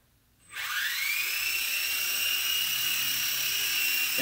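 A Blade mCX2 four-channel coaxial RC helicopter spins up and flies, its small electric rotors giving a high, steady whine that starts abruptly after a moment of quiet and holds close and loud throughout.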